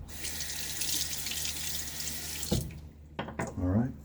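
A bathroom tap runs for a rinse during a wet shave, a close, steady gush of water that stops abruptly partway through. A few clatters and some brief speech follow.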